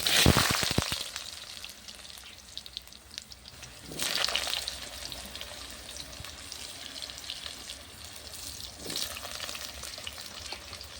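Potatoes and vegetables frying in hot mustard oil with dried chillies and panch phoron, cooked on a clay stove: a steady close sizzle and crackle, with louder bursts of spitting around four and nine seconds as stirring disturbs the pan.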